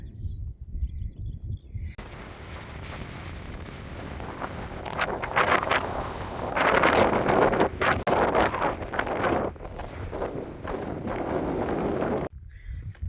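Strong wind buffets the microphone on a hilltop near a trig point, a roaring, gusting rumble that swells and surges loudest in the middle before dropping away abruptly at the end.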